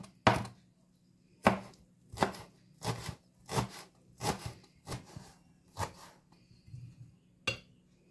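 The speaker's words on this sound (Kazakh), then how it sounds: "Енді мына аскөгімізді турап аламыз." Knife chopping fresh dill on a board, about ten distinct sharp chops in an irregular rhythm, close and crisp with quiet gaps between strokes, no voices.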